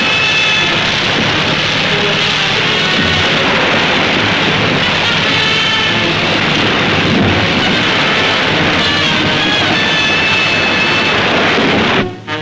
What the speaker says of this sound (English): The fire of an LVTA is brought upon an enemy-held settlement.